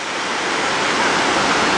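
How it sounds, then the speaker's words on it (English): Giant cascading waterfalls tumble through limestone formations at Tat Kuang Si near Luang Prabang, Laos, as a loud, constant broadband roar of rushing water that fills the whole scene without pause. "it's just a series of cascading waterfalls through limestone formations"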